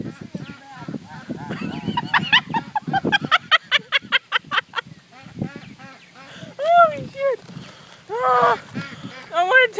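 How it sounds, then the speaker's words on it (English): White ducks at a park honk and quack up close in bursts and rapid strings of calls, with people talking over and between them. "I want to take this white duck home."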